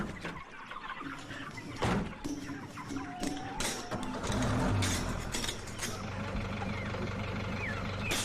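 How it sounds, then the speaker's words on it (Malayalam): Chickens cluck and a rooster calls among scattered knocks and handling noises, with a low mechanical hum underneath. "ഇതിൽ കോഴി അല്ലാതെ വേറെ ഒന്നുമില്ല സാർ"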